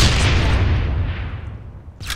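An explosion in the shooter game Phantom Forces gives a loud, deep boom that rolls off over about two seconds, ending in a short sharp burst.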